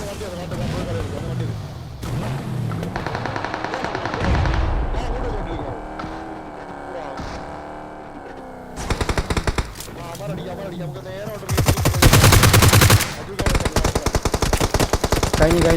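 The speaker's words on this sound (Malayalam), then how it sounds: "അവിടെ ഷോട്ട് ഗണ്ണൊക്കെ അടിക്കുന്നു" Shotgun gunfire in a competitive video game match comes as loud, rapid bursts of shots, with vehicle noise and players talking throughout.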